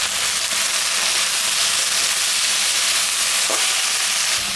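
Taro stolons fry in hot oil in a pan with salt and turmeric, a steady loud sizzle and crackle running continuously with occasional stirring scrapes.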